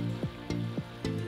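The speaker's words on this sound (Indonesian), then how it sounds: "kentangnya ini kita goreng sampai benar-benar matang ya" Potatoes frying in hot oil, a steady close sizzle broken by several short scraping stirs at a regular pace.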